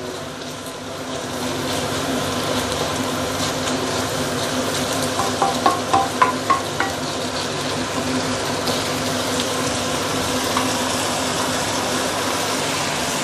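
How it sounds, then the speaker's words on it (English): Steady hiss of spicy pork stir-frying in a hot pan, with a short burst of light clinks partway through. "I love to listen to all these sizzling sound."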